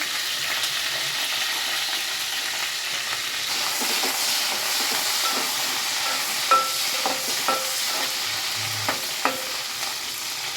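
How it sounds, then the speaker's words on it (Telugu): Green chillies frying in hot oil, a continuous sizzle with stirring, plus several sharp scraping clicks of the utensil against the pan in the second half. "ముందుగా మనం రెడీ చేసి పెట్టుకున్న పచ్చిమిర్చి ఇవన్నీ ఆ ఆయిల్లో వేసుకోవాలి."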